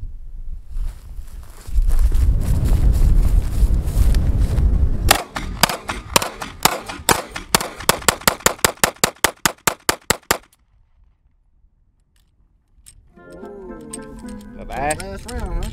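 A pistol fires a rapid string of close, sharp shots during a magazine torture test. A rumbling lead-in comes first, then the shots, then quiet, and a person speaks near the end.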